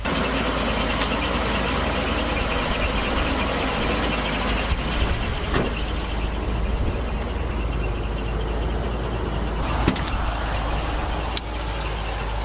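An RV engine labors up a steep hill, a steady loud drone with a high whining squeal running continuously over the rumble, plus a few brief knocks and rattles.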